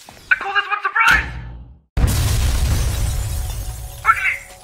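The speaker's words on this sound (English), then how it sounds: "Broken glass shard." Glass shatters with a loud crash in the puzzle video game Gravitas, the breaking burst trailing into a long scattering rush of shards after brief game tones.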